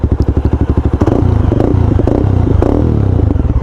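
A Mahindra Mojo motorcycle engine idles with a loud, rapid, even thump, then revs up into a sustained, rising roar that dips and swells again, close by with no one talking.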